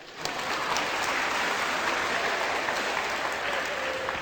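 Indoor audience at a Buddhist Abhidhamma talk breaking into applause, a thick continuous clatter of many hands that stays loud and even throughout, with no speech on top.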